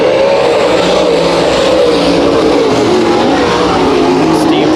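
Race cars in a heat race at Bakersfield Speedway, their engines roaring loud and continuous with a steady drone that wavers as the cars circle the track, with no break from start to finish.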